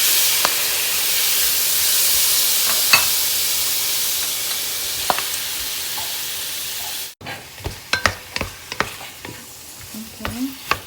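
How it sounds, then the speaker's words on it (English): Shallots and shrimp for pancit fry in a pan with a loud, bright, continuous sizzle for several seconds. The hiss then cuts off into a quieter stretch of irregular pops, crackles and stirring scrapes, all close and with no talking. "It's time to dump the shallot shrimp."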